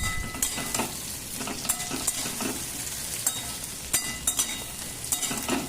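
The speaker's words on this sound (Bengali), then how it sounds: "ভেন্ডিটাকে কিন্তু আমরা খুব ভালোভাবে ভেজে নেব" Gram-flour-coated okra frying in oil in a pan, a constant crackling sizzle with frequent spatula taps and scrapes as the pieces are turned.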